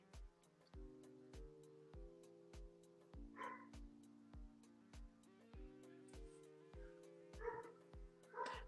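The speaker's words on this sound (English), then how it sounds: "Sorry if you hear a dog there." A dog barks repeatedly in the background, short evenly spaced barks that stay faint and distant throughout.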